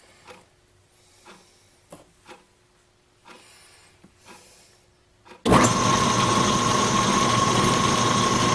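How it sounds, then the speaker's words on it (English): Metal lathe running in back gears while cutting a tap wrench part with plenty of oil: a loud, steady mechanical drone with a whining tone starts abruptly after a few soft clicks and knocks. "running the lathe, of course, in back gears"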